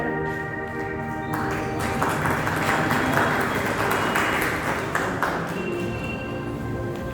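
Steady applause from an audience fills a stage award ceremony for the Ujas Magazine Award 2022, with dense clapping that swells in the middle and then holds at a fairly even level.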